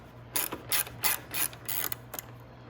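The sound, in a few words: ratchet removing bolts from eVader fairing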